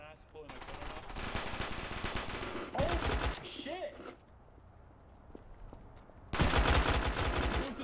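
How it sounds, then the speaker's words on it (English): Rapid automatic gunfire from the video game Garry's Mod comes in dense bursts at the start, in the middle and again near the end, with voices talking excitedly between and under the shots. "the random dude shot the other dude"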